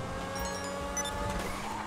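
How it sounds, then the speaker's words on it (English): A race car engine in the video game GTA Online roars steadily and loudly throughout, a sustained high-revving drone with slight pitch shifts. "Shit sounds like a race car."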